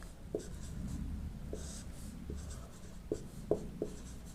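Pen or chalk writing out a maths solution, a steady scratchy stroke sound with several short sharp taps as strokes begin, near and fairly quiet, with no talk.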